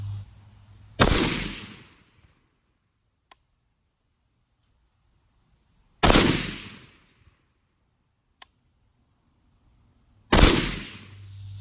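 Three loud rifle shots from a Ruger AR-556 fired from the prone position with a scope, each a sharp crack with a decaying tail, spaced about four to five seconds apart, with quiet gaps and faint ticks between.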